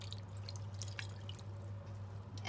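Water trickles and drips into a bowl of chicken marinade made with mustard, soy sauce and spices, faint soft splashes over a steady low hum, with no talking.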